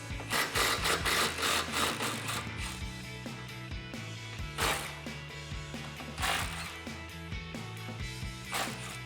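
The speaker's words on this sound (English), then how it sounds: "grab a 15 millimeter deep socket. We're going to loosen up, but not completely remove, the nuts on both of the band clamps here" A socket ratchet with a 15 mm deep socket loosening band clamp nuts on a 2015-2023 Mustang GT exhaust, giving rapid close clicking in bursts with metallic knocks between strokes.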